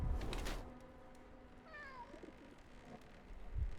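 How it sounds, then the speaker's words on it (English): In the Sherlock Holmes: The Awakened video game, a cat gives a single short meow, faint and distant, midway through a quiet stretch of low background ambience. "I hear kitty."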